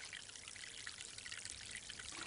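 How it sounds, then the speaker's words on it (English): Water drains from a sink in a continuous, fairly faint rushing trickle, steady and even throughout with no other sounds. "If you drain a sink when you are on the northern side of the equator"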